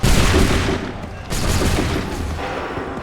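A musket volley fired by soldiers in Assassin's Creed 3 opens loud as a dense crackling burst of many shots at once, then settles into rumbling echoes and scattered follow-up fire.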